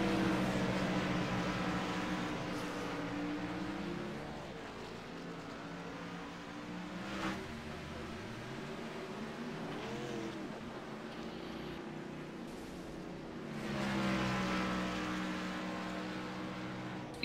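Race cars roaring around the Texas speedway track in an ITSR event, engines droning steadily at a distance and swelling as cars pass by near the start and end.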